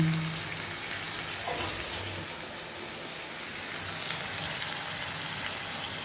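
Fish curry bubbles in a pot, a quiet, steady simmering hiss with soft popping, with no talk over it.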